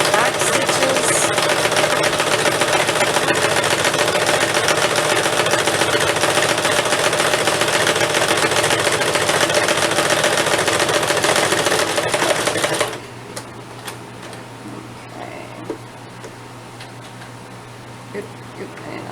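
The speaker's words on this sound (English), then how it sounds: "my sewing machine is a Shark" Shark sewing machine stitching a rice heating bag, a fast continuous mechanical chatter running loud and close for about thirteen seconds before stopping abruptly, leaving quiet room sound with a few light clicks.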